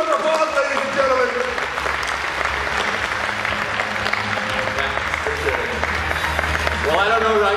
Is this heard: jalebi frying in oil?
no